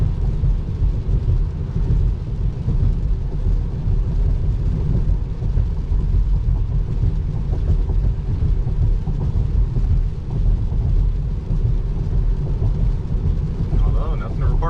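Heavy rain at night on a car driving through a city, a dense steady roar of rain and road noise inside the cabin, loud and unbroken.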